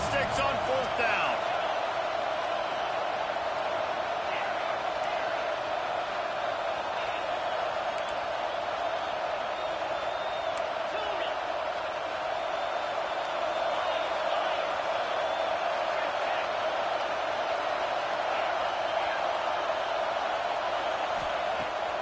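Steady roar of a stadium crowd at a football game on fourth down, a dense continuous wash of voices with a commentator talking over it.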